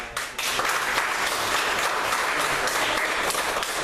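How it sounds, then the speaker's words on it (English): Dense, steady applause from a conference audience at a public debate, a continuous wash of many hands clapping at close range with no talk over it. "So one more round of applause for them"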